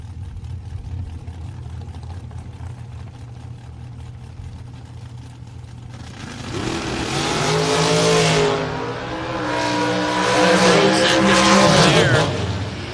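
Eighth-mile drag race launch on a practice tree: a steady low engine idle, then from about six seconds a loud, broadband roar of cars accelerating away, surging twice toward the end.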